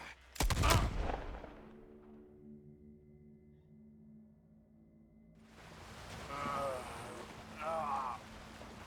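A single loud, close gunshot rings out in Red Dead Redemption 2, then fades into low sustained tones while voices talk afterward.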